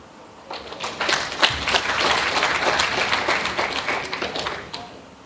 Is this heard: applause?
yes